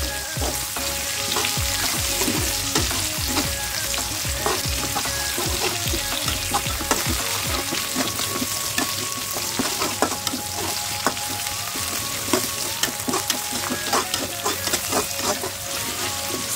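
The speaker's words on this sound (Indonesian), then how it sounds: "Kita tumis sampai bawang bombaynya layu ya." Onions with chilies being stir-fried in a wok for a chop suey vegetable dish, a steady loud sizzle with rhythmic scraping and clanking of the spatula throughout, no voices.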